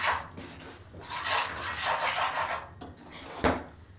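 A spoon scrapes and stirs turmeric and spices through oil in a cooking pan while a paneer matar masala is being made, giving continuous rubbing and clinking with a sharper knock near the end, close and alone.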